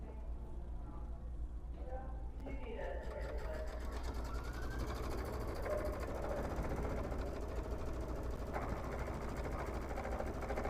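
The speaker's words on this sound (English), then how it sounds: "And we're going to stitch out the star." An embroidery sewing machine stitches out a star appliqué with a rapid steady needle chatter and motor hum, continuous and close, with faint talk beneath.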